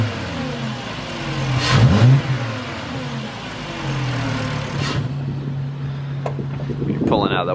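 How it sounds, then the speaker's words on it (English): A Volkswagen engine with a modified intake idles, then is blipped in two sharp revs that rise and fall back, with voices talking nearby. "Ready for the rev?"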